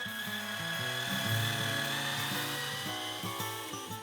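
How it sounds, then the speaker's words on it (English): A steady, high-pitched whine of a small power drill running continuously while drilling a hole in aluminum, with stepped shifts in motor pitch, fairly close and moderately quiet. "First, I drill a clearance hole large enough to accommodate the screw shaft."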